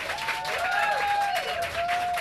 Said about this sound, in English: Again, you have to clap hard.